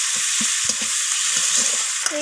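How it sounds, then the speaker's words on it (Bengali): Sliced onions and two bay leaves fry in hot oil in a pan, a loud continuous sizzle with soft scraping stirring taps, ending in a brief clink. "তো এরপর ওই একই তেলের মধ্যে দিয়ে দিলাম দুটো তেজপাতা আর কেটে রাখা পেঁয়াজগুলোকে। তো পেঁয়াজগুলো আমি লালচে করে ভেজে নিচ্ছি।"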